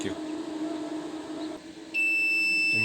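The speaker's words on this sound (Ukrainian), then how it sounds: "Інкубатор пищить, відкрив його дуже довго." An egg incubator sounds a sustained high-pitched beep after its lid has been left open too long, starting abruptly after a muffled stretch of background noise.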